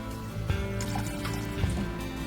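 Isopropyl alcohol pours into the tank of an Anycubic Wash and Cure Plus resin wash station, a steady liquid fill with soft dripping and trickling, close and continuous at moderate level with no talk.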